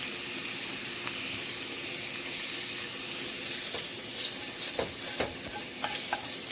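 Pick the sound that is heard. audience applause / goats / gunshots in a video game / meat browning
meat browning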